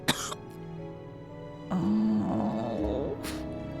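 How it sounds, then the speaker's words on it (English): Voiced coughing from a character in the Hakuoki: Kyoto Winds video game, a brief harsh burst at the start followed by a longer strained, choking vocal stretch, close and fairly loud over quiet game music. "His body shook with each cough"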